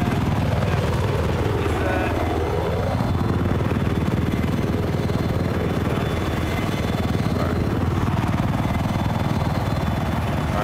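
A helicopter flies in the video game Battlefield 4 on the Dragon Valley map, its loud, continuous rotor and engine roar sweeping up and down in pitch as it passes close by.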